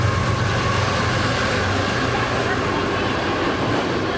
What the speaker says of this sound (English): just on cue, we have one of the Conrail freight trains